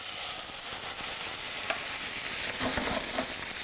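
Red wine bubbles and sizzles gently in a pan with caramelised onions, a faint, continuous hiss with a few soft pops and spatters toward the end, no voices.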